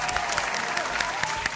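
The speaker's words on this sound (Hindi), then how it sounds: "जोरदार तालियां" A TV studio audience breaks into loud, continuous applause, a brisk wash of many hands clapping close by with a few sharper claps standing out.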